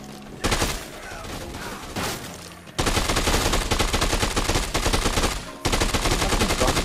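Rapid bursts of gunfire from the video game Dead Rising 2: Off The Record, loud and close, with a brief lull before dense sustained firing that breaks off once near the end.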